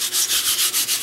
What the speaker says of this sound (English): I'm going to lightly sand it, and I am going to apply a second coat.